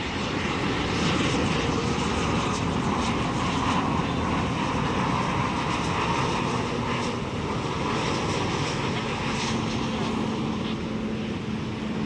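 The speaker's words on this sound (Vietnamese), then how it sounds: "mời mọi người chiêm ngưỡng pha hạ cánh của chiếc Gulfstream G700 này nha, xuống đường băng 25 phải sân bay Tân Sơn Nhất" A Gulfstream G700 business jet landing on runway 25R at Tan Son Nhat airport, a steady, loud, broadband engine roar and rush sustained unbroken throughout, with no voices.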